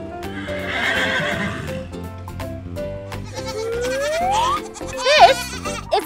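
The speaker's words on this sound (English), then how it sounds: "This is a horse, and horses go neigh." A horse whinnies in a high, rising neigh near the end, preceded by a cheerful jingle and hoof clip-clop, with bleating farm animal calls mixed in.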